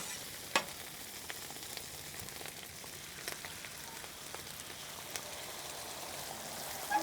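Eggs frying on a flat-top griddle give a steady, close sizzle with a few sharp pops and spits scattered through, and no voices.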